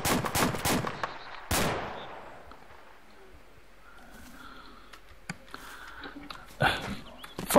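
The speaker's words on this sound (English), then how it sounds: "how does he shoot past you and hit me?" Gunfire in ARMA 2 with the A.C.E. mod: a rapid cluster of sharp, reverberant shots up front, another lone crack around the middle, then a final pair near the end, with a quiet, echoing lull between them.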